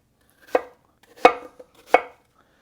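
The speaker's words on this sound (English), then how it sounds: "we're going to cut our chunks of apples" Knife chopping apple into roughly half-inch chunks on a cutting board, three sharp, close thuds spaced about two-thirds of a second apart, with near silence between them.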